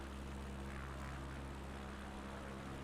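Propeller plane engine in a flight simulator during a bush flight from Bologna to Florence, a steady low droning hum, continuous and fairly quiet from the cockpit.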